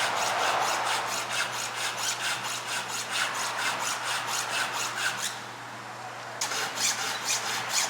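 A file is drawn across a chainsaw chain to sharpen it, making about a dozen steady, rhythmic rasping strokes close by. There is a brief pause near the end before the strokes resume.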